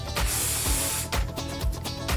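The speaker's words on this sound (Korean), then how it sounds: "이쪽은 귀 뒤를 접어서 가스 스프레이를 뿌려주고" Gas hairspray hisses onto short hair folded behind the ear in a series of bursts: one long continuous spray followed by several shorter quick spritzes, close and loud, with no talking.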